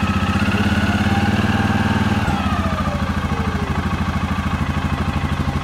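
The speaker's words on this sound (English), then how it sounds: "Let's rev it up a little." A 2007 Suzuki KingQuad 700 ATV with charging and running issues idles with a steady loud thumping pulse, then its engine note shifts briefly as it is revved a little.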